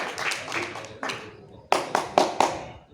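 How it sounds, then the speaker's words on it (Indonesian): A classroom of students gives a few scattered hand claps in appreciation during a micro-teaching lesson, short sharp bursts near the end following a stretch of talking. "Tepuk tangan dulu, apresiasi kita"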